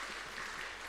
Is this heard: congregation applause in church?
yes